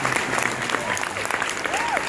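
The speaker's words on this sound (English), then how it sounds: "we can applaud that" Convention panel audience clapping and cheering in a packed hall, a brief burst of dense applause with voices and whoops mixed in.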